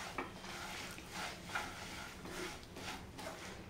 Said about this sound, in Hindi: ये दोनों को ऐड करने के बाद अच्छी तरह से मिक्स करके फ्लेम को बंद कर देंगे हम।